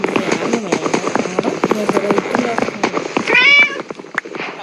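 A cat meowing near the end, one drawn-out meow close by, after a stretch of clattering, tapping and voices.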